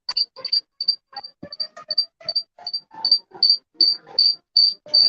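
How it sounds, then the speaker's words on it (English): Crickets chirp in steady, evenly spaced pulses, loud and close, with no voices over them. "We're getting crickets."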